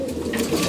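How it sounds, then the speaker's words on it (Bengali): Pet pigeons coo softly and repeatedly at close range, a steady low murmuring drone with several overlapping birds and no clear pauses. "এই যে আমাদের কবুতরগুলা"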